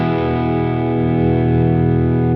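Electric guitar through a Way Huge Pork & Pickle overdrive pedal with no clean signal mixed in, holding one thick, sustained distorted chord that rings loud and steady throughout.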